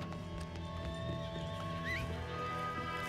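A horse whinnies in Red Dead Redemption 2 Online, over continuous background music and hoof clip-clops, with no talking.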